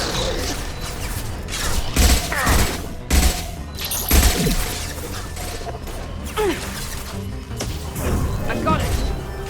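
Mass Effect 2 firefight with heavy gunfire: bursts of shots, impacts and crashing debris land in irregular clusters, loud and close, while voices shout over the combat.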